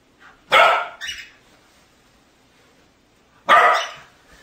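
A dog being clicker trained barks close by, two sharp barks with a short follow-up yip, separated by near silence.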